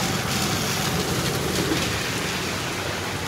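Rain falls steadily on a road, a dense, even hiss of drops close by that holds constant throughout with no voices.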